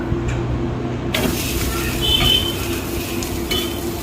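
Sweet dosa made from fermented batter sizzling on a hot pan, a steady frying hiss with the clink and scrape of a spatula as it is turned over, fairly close and continuous.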